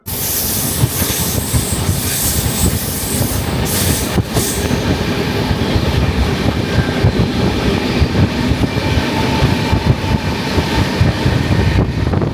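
An AP Express train running from Rajahmundry toward New Delhi, nearing Delhi, gives a loud, steady rumble of wheels and carriages with a constant airy hiss throughout, with no voices.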